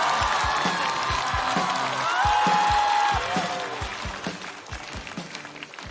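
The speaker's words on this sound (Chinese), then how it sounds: "掌声有请王悦。" Audience applause and cheering in a stand-up comedy show studio as a comedian is welcomed to the stage, steady clapping with a brief whoop, gradually thinning toward the end.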